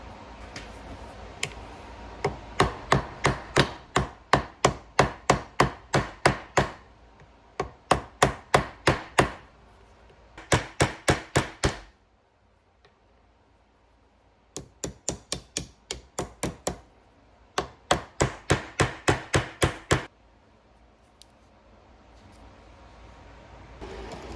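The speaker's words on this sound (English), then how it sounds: "now I'm going to pin the bolster on and peen my stainless pins over" Steady hammer blows peen stainless steel pins over a knife bolster, coming in several rapid bursts of sharp, ringing metallic taps with short pauses between them, close and loud with no talking.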